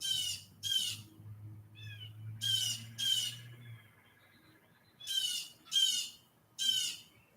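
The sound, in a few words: bird squawking in a tree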